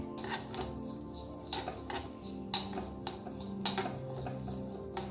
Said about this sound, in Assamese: তাৰপিছত মিডিয়াম ফ্লেমত লৰাই লৰাই এইখিনি মই ভাজি থাকিলোঁ।